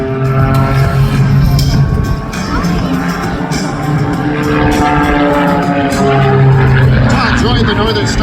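A Pitts S-2B Special aerobatic biplane dives toward the ground at an air show, its engine a steady loud drone with a rising and falling pitch, under an announcer's amplified commentary and crowd noise.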